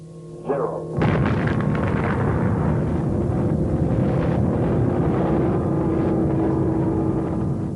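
A nuclear bomb explosion: a short rising whoosh, then a sudden loud boom that rolls on as a sustained, heavy rumble for several seconds.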